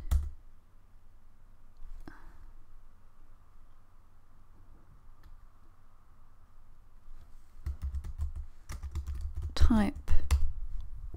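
Computer keyboard typing while writing a comment into a PDF, faint scattered key taps early on, then a quick burst of clattering keystrokes near the end.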